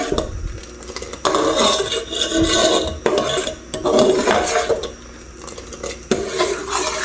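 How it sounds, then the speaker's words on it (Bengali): A spoon scrapes and rasps against a pot while stirring semai vermicelli with milk powder, loud irregular strokes with brief clinks of metal, no voices. "যাতে লেগে না যায় তো একটু সাথে সাথে নেড়ে দিলাম"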